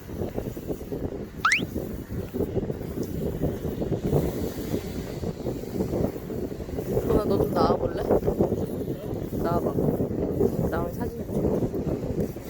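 Strong wind blowing at Gangneung beach, a steady rushing roar buffeting the microphone throughout, with people talking over it.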